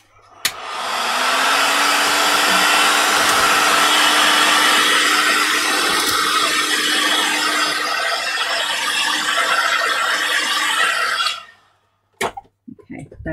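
Hair dryer blasting air onto a small doll's dress, a loud steady whirring roar close by that holds for about ten seconds before cutting off, followed by a few faint clicks and handling noises.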